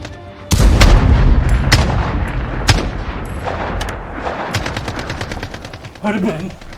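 Gunfire and explosions in a war scene: heavy booms and rapid bursts of shots, loud and close, with a voice briefly near the end.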